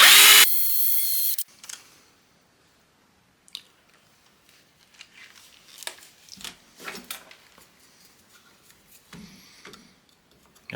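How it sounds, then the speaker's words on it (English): A drill turns a tension-pin screw extractor into a guitar: a loud, high whine of the drill opens the recording, then come quieter scattered grinding bursts and scraping as the bit bites and dances. "the bit is all the way in the drill, maybe we'll have better luck"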